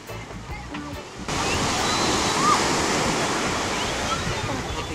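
Ocean waves breaking on the beach at Pacasmayo, a loud steady roar of surf that swells up after a quieter start and continues without pause.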